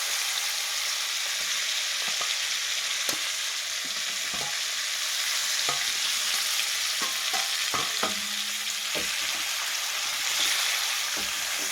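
Prawns frying in hot oil, a loud steady sizzle with intermittent utensil taps and clicks over it, no voices.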